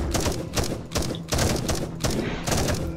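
Bursts of gunfire from people on the ground in the 10 Miles To Safety video game, rapid volleys in several short clusters, fairly loud, with no talking over them.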